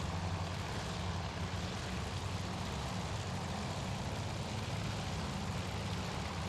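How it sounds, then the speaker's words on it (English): A torpedo bomber's engine in the naval carrier-strike game Task Force Admiral gives a steady, dense droning roar with a low rumbling throb, continuous and unchanging throughout. "One torpedo bomber still alive."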